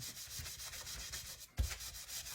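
Paint being rubbed off a Dollar Tree sign, a close, quiet, rhythmic scrubbing with regular back-and-forth strokes and one slightly heavier bump near the end.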